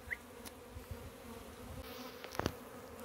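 Italian honeybees buzz faintly around a capped honeycomb full of honey, a soft low hum with a couple of brief louder passes close by.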